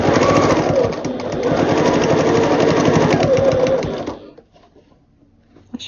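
A sewing machine stitches quilt binding in a steady, close, loud whir for about four seconds, then stops, leaving faint handling noises.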